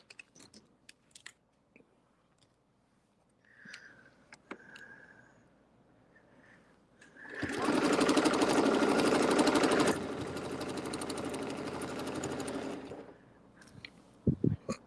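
A quilting sewing machine stitches scallops along a ruler, first a few light clicks and taps, then a loud, close run of rapid stitching that eases into a slightly softer run before stopping, followed by a few handling knocks.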